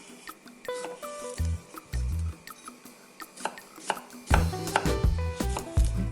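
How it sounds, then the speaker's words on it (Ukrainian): A knife slices small, young cucumbers for a cod liver salad, giving a series of crisp, close chopping taps in short clustered bursts with brief pauses between, no voices. "Беру огірочки в мене невеликого розміру. Ріжу їх."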